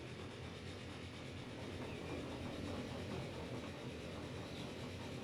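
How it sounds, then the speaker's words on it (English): A Hiawatha passenger train runs steadily in the Transport Fever 2 game, a continuous rolling rumble with faint rail clatter, moderately quiet and unbroken, with no voices. "We kind of updated this train a little bit to one of the Hiawathas."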